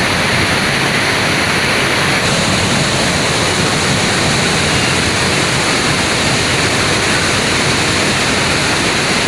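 Steady, loud roar of the waterfall at Curug Leuwi Hejo in Sentul, Bogor, pouring into its main pool, a dense broadband rush of falling water running unbroken throughout with no voices.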